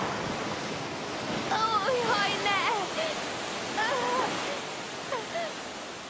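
A river rushes in a steady, broad roar as a fairy-tale sound effect, with a distressed voice exclaiming over the flowing water.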